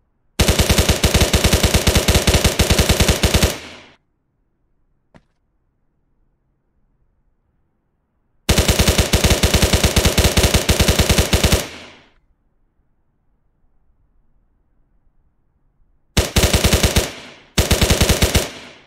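Loud bursts of rapid automatic gunfire on a shooting range during an emergency reload drill, several sustained strings of shots separated by silent pauses, close and harsh.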